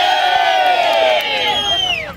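A crowd of motorcyclists at a rally shouts and cheers together, a loud, close burst of raised voices that slides down in pitch and fades within about two seconds.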